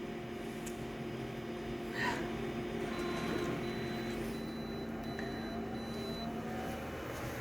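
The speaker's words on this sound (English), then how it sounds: "This photocopier sounds a bit like a small, like a car." A steady mechanical hum with a low engine-like drone from a Konica Minolta photocopier running continuously at close range, with faint clicks and whirs.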